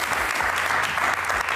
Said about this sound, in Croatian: Ne znam hoće li vas pljeskom nagraditi naši jedni studenti